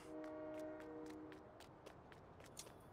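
Train horn sounding in the Farming Simulator 19 video game, a faint sustained tonal honk at the start fading after about a second, followed by soft clicking steps under quiet game ambience.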